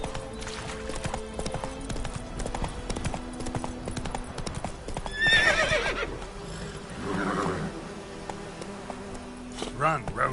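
Roach the horse in The Witcher III galloping, with steady clip-clop hoofbeats throughout and a couple of bright neighs and whinnies rising over them toward the middle, alongside game ambience.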